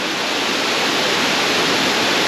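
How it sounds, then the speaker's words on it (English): Bering Falls in Glacier National Park, swollen after days of rain, pours in a steady, loud, full-band rush of water, close and constant with no voices. "This is Bering Falls. Really rolling."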